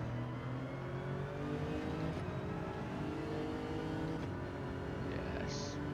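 Ford GT race car engine in Gran Turismo 7 drones continuously at a steady pitch, a sustained mid-loud whine and roar with faint shifts, no talking.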